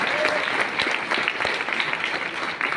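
A church congregation claps steadily and loudly together at a gospel meeting, a dense sustained wash of applause filling the room.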